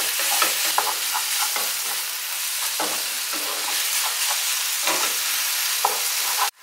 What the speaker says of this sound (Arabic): واحد شويه ديال الصوجا على لاصوص الصوجا صافي. وغادي نخليها طيب ومع هاد البصيله هادي